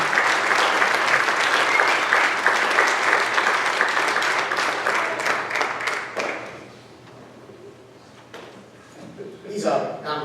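An audience applauding at a high school distinguished alumni ceremony: strong, dense clapping for about six seconds that fades to scattered claps and room quiet, then a voice begins speaking over a few late claps.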